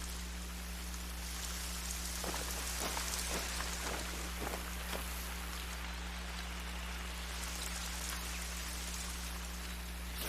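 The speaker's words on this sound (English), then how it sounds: "Sure is rainy today." Rain in the hunting video game The Hunter: Call of the Wild, a steady soft hiss of rainfall with a few brief patters and drips over a low constant hum, no speech.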